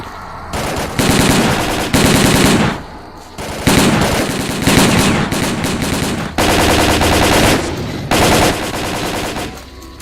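Automatic gunfire in the video game S.T.A.L.K.E.R: Call of Pripyat, loud sustained bursts of rapid shots separated by short pauses, close and dominant.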